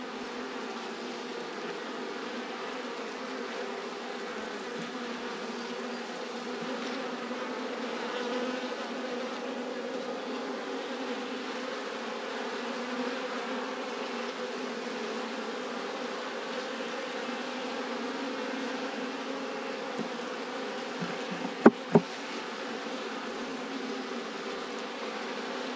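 A swarm of honey bees leaving a nucleus hive makes a steady, dense buzzing drone close around the listener throughout, with a couple of brief knocks near the end.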